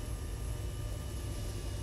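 A helicopter in the military video game Arma 3 drones steadily up close, a continuous low rotor and engine rumble with no break or change, heard alone.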